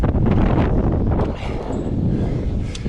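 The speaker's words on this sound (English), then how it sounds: "The wind might push my piece off." Strong outdoor wind gusts buffet the microphone in a loud, continuous low roar during work on a large dead spar tree.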